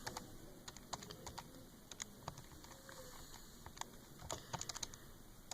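Fingers tap out quick, light, irregular key presses on a Casio calculator, faint and close, with brief pauses between clusters of clicks.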